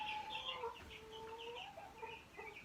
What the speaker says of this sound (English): There's our rooster, Obi.